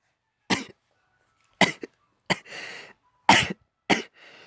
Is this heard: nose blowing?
yes